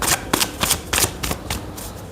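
A tarot card deck is shuffled up close, a brisk run of rhythmic riffling bursts about four per second, loud and alone with no talking.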